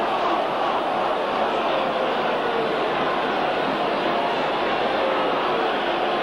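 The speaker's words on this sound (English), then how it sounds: "And again the crowd shouting." Rugby league crowd at a 1990 Leeds versus Widnes match shouting, a steady loud roar of many voices holding at the same level throughout.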